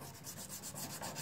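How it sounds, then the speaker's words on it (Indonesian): Fine sandpaper rubbed by hand over a motorcycle fuel tank with leaking, rust-weakened seams, giving a steady close-up rasping scrape in even back-and-forth strokes with no voices. "Nah, kita amplas halus seperti ini."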